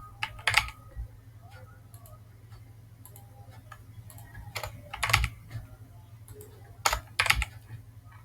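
Code being typed on a computer keyboard during a Python exercise, with sparse clicky keystrokes and a few quick bursts of rapid taps over a steady low electrical hum, fairly close and moderately quiet.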